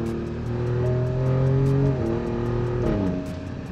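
Inside an Alfa Romeo Giulia Quadrifoglio under way, the engine hums and pulls through the gears, its pitch climbing and then dropping with two clear shifts, steady and close with no talk over it.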